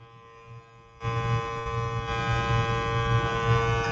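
An airbrush makeup device sprays with a steady electric buzzing hum from its compressor, close by, growing louder after the first second and holding even to the end.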